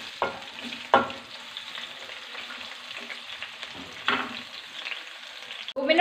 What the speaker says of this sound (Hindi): इसके अंदर अब मैं डाल दूँगी प्याज, और इनको मैं 2 मिनट के लिए पकाऊंगी।